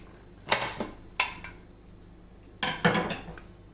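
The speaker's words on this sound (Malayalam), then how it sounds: "കുക്കറിൻ്റെ പ്രഷറൊക്കെ പോയിട്ടുണ്ട് മുഴുവനായിട്ടും. അപ്പോൾ ഇത് നമുക്കിനി തുറക്കാം." A pressure cooker used to cook mango is opened after its pressure has been released, with a few sharp metallic clanks and scrapes of the lid and pot, close and separated by short pauses.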